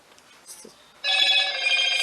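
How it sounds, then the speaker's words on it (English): A mobile phone rings with a steady, bright electronic tone that starts abruptly midway and continues loudly, after a quiet stretch of faint background sounds in a nail art session. "that is my phone that keeps going off."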